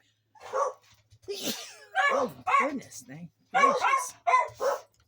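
Indoors, a dog barks repeatedly at someone arriving outside. The sharp, close barks alternate with someone speaking.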